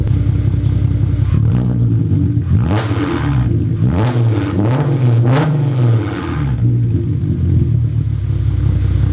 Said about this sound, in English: let me give you a couple quick revs so we can hear how it sounds